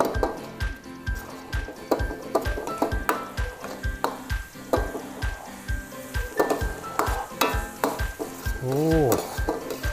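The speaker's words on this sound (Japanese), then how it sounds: "炒めて香りを出しましょう。" Homemade chili-pickled soy sauce and pepper are stir-fried for gapao rice in a wok. Quick, repeated metal scrapes and clinks sound over a soft sizzle, and a voice speaks briefly near the end.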